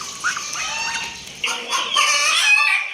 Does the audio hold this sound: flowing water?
no